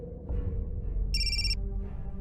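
A telephone rings with a bright electronic two-tone trill in a short burst of about half a second, cutting through a low, steady indoor background with no one speaking.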